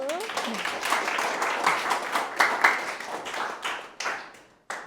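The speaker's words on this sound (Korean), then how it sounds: "좋습니다. 박수." Students clapping in a high school classroom during a literature discussion lesson, a burst of scattered applause that swells and then tapers off over a few seconds, with some voices mixed in.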